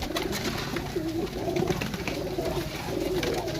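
Pigeons at a bird seller's place in Sarai Alamgir, Gujrat, coo in steady, overlapping throaty rolls, close and continuous.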